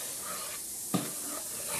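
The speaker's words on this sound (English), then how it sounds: "I'm just going to let that sizzle over here." A baking soda and water mixture sizzles and hisses softly and steadily, with a faint clink of a spoon partway through.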